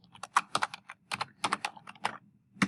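Fingers type on a computer keyboard, quick close bursts of crisp clicking keystrokes separated by brief pauses.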